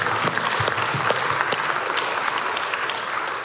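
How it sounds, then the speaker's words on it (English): A church congregation claps hands in praise during a Sunday service, a dense burst of applause with a few sharp individual claps at first, continuing evenly to the end. "Would you give God a hand clap of praise?"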